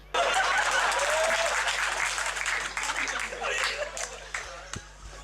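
Audience applause at a Hindi comedy poetry show, a loud burst of crowd clapping that starts abruptly and gradually thins and fades, with a few sharp individual claps standing out near the end.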